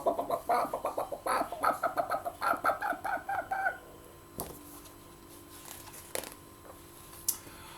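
A human voice imitates a chicken with a rapid run of clucking calls, loud and close, for the first half, then gives way to quieter background noise with a couple of brief clicks.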